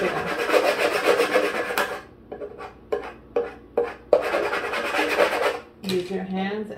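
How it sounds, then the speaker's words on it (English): A handheld scraper is pushed firmly over a sheet on a gift basket, giving harsh rubbing strokes: a long scrape, a run of short rhythmic passes, then another long stroke, close and loud. "go ahead and grab your scraper and scrape it down."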